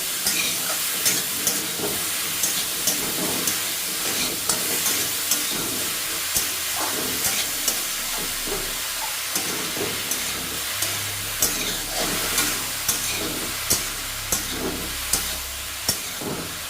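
Mushrooms dusted with turmeric are stirred and fried in a pan for butter mushroom made without onion or garlic, giving a steady close sizzle broken by regular scraping stirs, with no talking.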